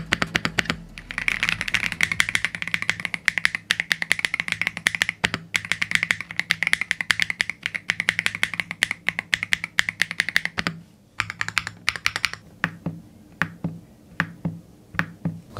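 Rapid, crisp keystrokes on a Keychron Q3 HE 8K magnetic mechanical keyboard, fast steady typing up close, thinning to a few scattered taps toward the end.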